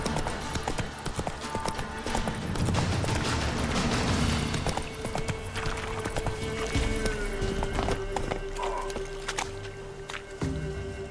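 Horse galloping in The Witcher 3 video game: rapid, steady clip-clop hoofbeats close by with a brief whinny, the rhythm slowing slightly toward the end amid faint game mechanism noises.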